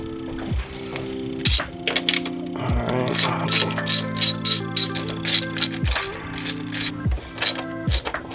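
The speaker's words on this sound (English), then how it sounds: "I'm gonna take the valve cover off." Ratchet loosening the valve cover bolts on a car engine, with repeated quick clicking runs and metallic rattles up close and steady, no talking.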